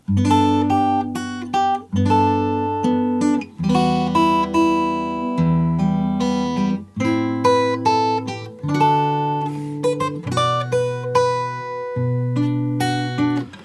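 A fingerpicked guitar in standard tuning plays a piece from Final Fantasy VII alone, clear and close, with bass notes and plucked chords moving in phrases separated by short pauses.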